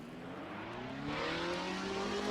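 A modded car in the Assetto Corsa racing game, driven at a Goodwood Festival of Speed setting, revs loudly with its engine note climbing steadily in pitch, rising harmonics building over a couple of seconds with no voices.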